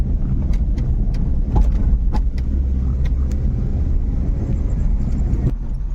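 A bus passes along a narrow, rough, unrepaired road to the Anganewadi fair, its engine rumbling loudly and steadily close by, with sharp rattles and clatters from the bumpy surface.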